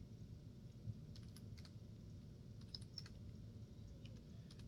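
Numbers are typed on a computer keyboard in short bursts of quiet, close key taps over a low background hum, with pauses between groups of keystrokes.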